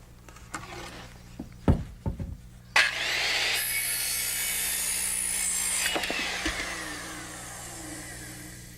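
A power saw set at 18.5 degrees cuts a wooden roof rafter for a 4/12 pitch roof, a close, loud whining rip lasting about three seconds, preceded by knocks and handling thumps as the board is positioned.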